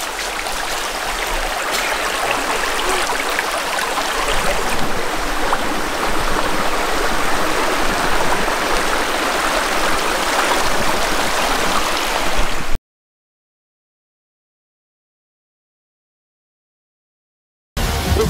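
River water flowing in a steady, broad rushing wash close to the microphone for about thirteen seconds, followed by a stretch of silence and a brief return of the flow at the end.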